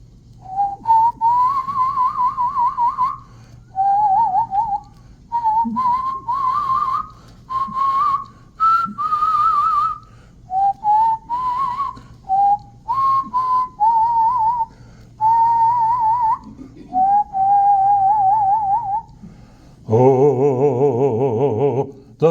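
A person whistles a slow, clear melody in a series of sustained phrases with short pauses, close and prominent, before a different tonal sound takes over at the end.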